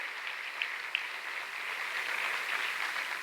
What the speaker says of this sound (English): So one more round of applause for 25 years of service to our honored employees here.